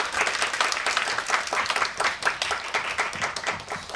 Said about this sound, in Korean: 박수 좀 부탁드립니다.